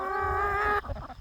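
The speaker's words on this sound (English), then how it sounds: "Yeah, these are the big girls. These are the big hens." Big hens cluck and chatter close by in one sustained, nasal, drawn-out call that cuts off abruptly, followed by softer scattered clucks.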